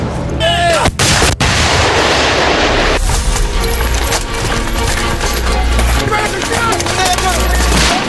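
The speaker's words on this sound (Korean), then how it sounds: "숲은 포영과 총성으로 뒤덮인다." Dense, continuous artillery and small-arms fire rolls through a forest during military combat training, with booming blasts and rapid gunshot cracks layered loudly throughout.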